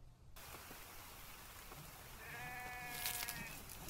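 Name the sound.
goat bleating in the video game The Infected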